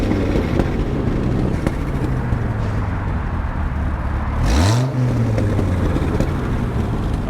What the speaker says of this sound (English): Kelly, can you give it some revs for us?